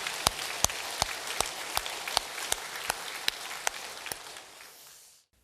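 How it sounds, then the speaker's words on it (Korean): Church congregation applause offered in blessing during a Korean sermon, a soft continuous patter of clapping with a few sharp, evenly spaced claps standing out, fading away near the end. "사랑과 축복의 박수를 올려드리겠습니다"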